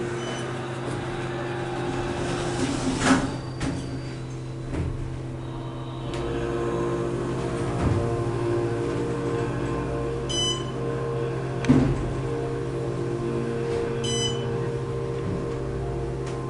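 An Otis Series 5 hydraulic elevator rises at a Hilton Garden Inn in Erie, PA, giving a steady low machine hum throughout, with a few soft thumps and faint electronic beeps over the drone.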